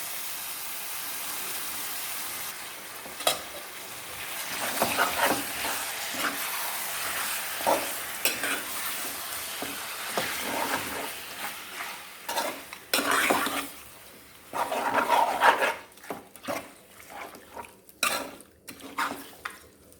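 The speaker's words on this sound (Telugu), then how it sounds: "ఉప్పు నిమ్మకాయ వేసి కలిపి ఉంచుకున్న చికెన్ని వేసుకుందాము" Lemon-and-salt marinated chicken for a gravy curry fries in a hot pan, with steady sizzling and repeated clanks and scrapes as it is stirred, loud and close with no talking.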